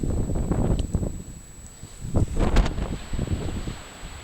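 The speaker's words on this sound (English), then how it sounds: "It's a bit windy up here." Wind gusts buffet the microphone on an open hilltop at the site of an ancient fort on Colonsay, a rough, low rumbling that swells and fades, with a faint steady high whine in the background.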